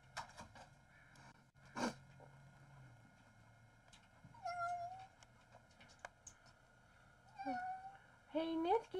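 A cat stuck up on a roof gives several drawn-out meows, some rising and wailing, spaced apart over ongoing background noise, with a person talking nearby.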